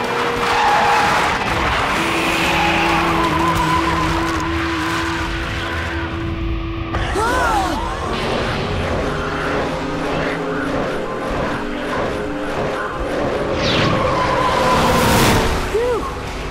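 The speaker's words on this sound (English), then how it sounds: "Ultra Flash's drift is way off!" A cartoon race car drifts with tires skidding and squealing, a long continuous screech over engine noise that shifts in pitch, loud and close, with bits of voice and effects mixed in.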